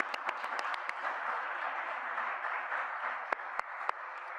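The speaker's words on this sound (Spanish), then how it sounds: "vamos a dar un aplauso a las mamás" An audience applauds mothers on Mother's Day at a church gathering, a soft, steady wash of distant clapping with a few sharp nearby claps standing out.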